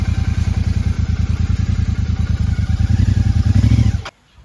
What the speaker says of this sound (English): I will run the engine to dry those exhausts off before I put it to bed